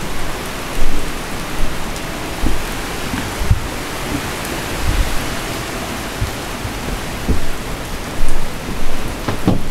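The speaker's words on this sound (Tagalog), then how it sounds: "ang lakas pa rin ng ulan mula kahapon hanggang ngayon" Heavy rain pours down in a dense, steady hiss, with occasional louder splashes and thuds rising over the constant downpour.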